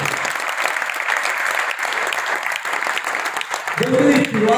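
An audience at a networking event claps loudly and continuously, dense applause filling the space from start to finish.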